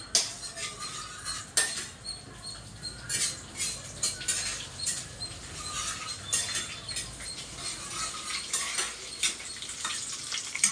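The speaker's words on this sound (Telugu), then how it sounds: "కొంచెం మినపప్పు, కొంచెం శనగపప్పు వేసుకుందాం. కొంచెం వేగనివ్వండి." Urad dal and chana dal fry in hot oil in a pan, crackling and popping in quick irregular bursts, close and fairly quiet, with faint clinks of a utensil and no talking.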